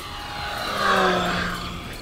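Eflite Conscendo Evolution 1.5 m RC airplane at full throttle, a rising, whining electric motor buzz that swells loudest mid-way as it passes, then fades slightly, outdoors with no talk.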